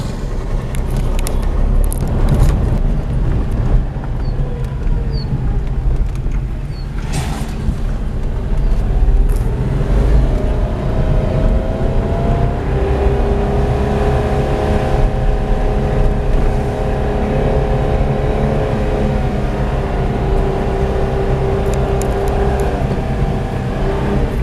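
A Renault Kiger car climbs a hill in third gear on the road to Ubeshwar Ji, its engine a steady, close drone that rises in pitch partway through amid road and wind noise.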